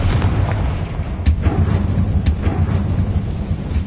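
Bombarda and Confringo spell blasts in the wizard game Hogwarts Legacy, a continuous rumbling barrage of deep booms with several sharper cracking impacts, loud and dense throughout.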